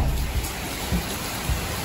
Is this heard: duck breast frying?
no